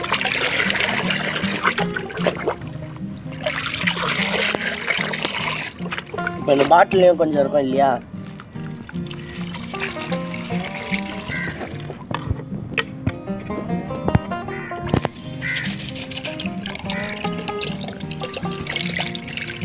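Jeevamirtham liquid is poured into about ten litres of water for spraying, with splashing and trickling sounds heard up close in short bursts while a person talks throughout.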